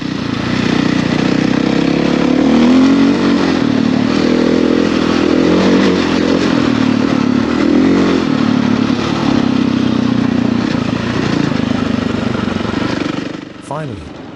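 A Husqvarna FE450 dirt bike engine drones loud and close on a ride through forest and sand, with a steady revving roar that fluctuates in pitch, rattles over rough ground, then drops away near the end.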